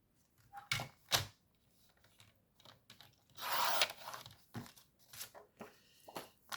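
Paper being cut and handled for a scrapbook envelope, with several sharp snips and rustles separated by pauses and a longer scraping crinkle in the middle, close and fairly loud with no talking.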